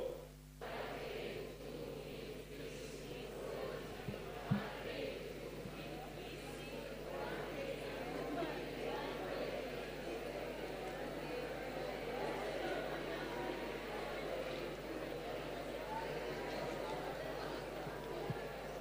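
Seated audience at an indoor event shouting as loudly as they can, a sustained mass of overlapping voices and yelling held for many seconds at a steady level.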